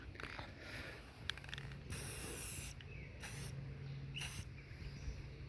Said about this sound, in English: Always wear gloves while spray painting and make sure to shake up the can before using.